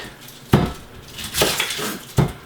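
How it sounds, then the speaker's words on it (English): A knife chops through a small yellow medallion onion on a cutting board, giving three sharp, separate knocks spaced about a second apart over a low background hum. "I'm on the last small onion now, and I'm cutting it."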